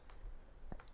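Computer keyboard typing in a quiet room, with a short run of light clicks and a louder keystroke near the end.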